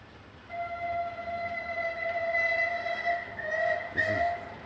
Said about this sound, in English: You can hear the train starting to move.